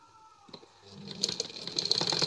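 A simple domestic sewing machine starts up and runs a seam, its fast rattling stitch building from a few soft knocks into a steady, fairly close whir.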